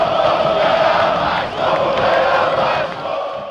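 Vasco da Gama supporters roar together in a packed stadium, a loud, sustained crowd chant with a brief dip midway before surging back.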